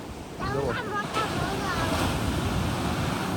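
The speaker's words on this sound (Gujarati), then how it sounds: "દરિયા તો તમને મોજા બતાવું" Rough waves on a stormy sea crash and roar continuously, loud and close, with heavy wind noise buffeting the microphone and a brief whistling sound near the start.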